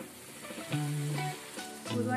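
Hot water hits chicken pickle in a hot pan, raising a loud, steady sizzle that swells in a few bursts over about two seconds.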